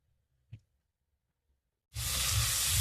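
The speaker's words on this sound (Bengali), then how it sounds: "রসুনটাকে ভেজে নেব।" Garlic paste hitting hot oil in a pan with lightly fried onions, a sudden loud sizzle that bursts in near the end after a near-silent stretch with one soft knock, then hisses steadily.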